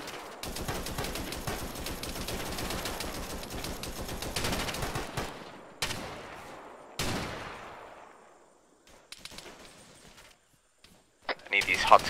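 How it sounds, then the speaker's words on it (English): Sustained, loud automatic machine-gun bursts in a Vietnam War jungle shooter game, rattling for about five seconds, then shorter volleys and isolated shots with gaps between, under occasional voice chatter. "cease fire with the MG"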